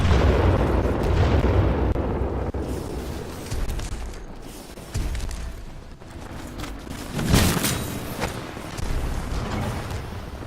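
A grenade goes off in the Titanfall 2 shooter game, loud and close, with a heavy booming blast and rumbling debris followed by further bursts and crackling battle noise, with no clear talking.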